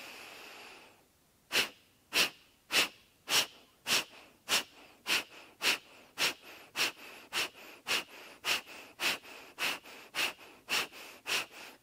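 Yoga breathing during a wake-up class, heard as about nineteen sharp, forceful, evenly paced breaths that come in a steady rhythm, close to the microphone, with no talking.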